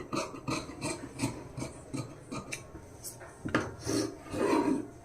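Scissors cut blouse fabric along a marked sleeve curve, giving a series of close, rhythmic rasping snips and rubbing strokes, with no talk.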